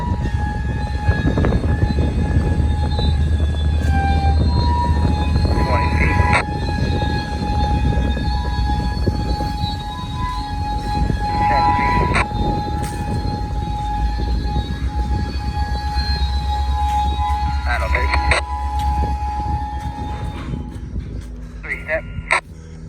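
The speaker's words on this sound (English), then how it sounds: "Train's over there." A long freight train on a short line railroad in Cincinnati rumbles past close by during yard switching, steady wheel noise and clanking throughout, with a voice speaking over it now and then.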